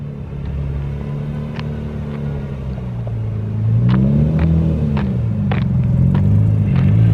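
A Nissan 350Z Nismo engine drones steadily while driving, its pitch dipping and climbing again as gears change without lifting off the throttle, loud and continuous with no talk.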